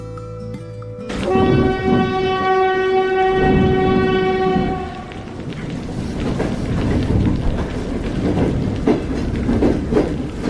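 A local train horn blares loudly for several seconds, then carriages rumble and clatter past nearby as the train continues rolling on.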